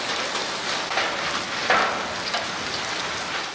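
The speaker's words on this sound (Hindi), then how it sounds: "फिर मूसलाधार बारिश हुई जो जमकर बरसी" Heavy downpour falling steadily in a dense continuous wash of rain noise, a few slightly louder splashes standing out, with no voices.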